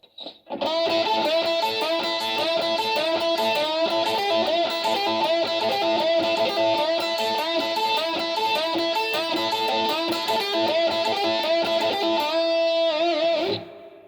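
A continuous heavy rock electric guitar lick played alone, bright and steady, running without pause for most of the clip before ringing out at the end.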